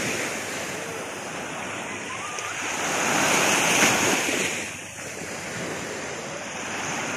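Sea waves at the shore of a marina in Elche, a loud broad wash of surf that swells and recedes, mixed with wind buffeting the microphone, no voices.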